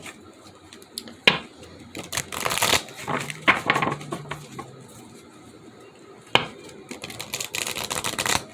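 A new deck of tarot cards is shuffled close by: crisp, papery riffling and slapping bursts that come in uneven clusters, with a quieter stretch in the middle before another round of shuffling.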